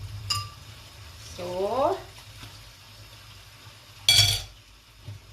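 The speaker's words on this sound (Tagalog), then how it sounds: "huhugas ako ng mga pinggan at baso" Dishes and glasses being washed, with two sharp, bright clinks several seconds apart against quiet running background noise, and a brief spoken word in between.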